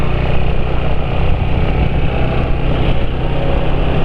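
A motorcycle engine runs close by, a dense, loud, continuous rumble with no pauses over a few seconds.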